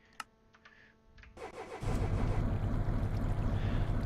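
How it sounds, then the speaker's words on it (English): Car engine in the Minecraft Transport Simulator video game cranks briefly after a few clicks, then catches and settles into a loud, steady idle rumble, with no talking. "Alright, so car is started."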